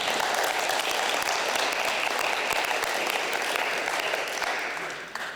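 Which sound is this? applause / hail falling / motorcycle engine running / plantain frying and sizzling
applause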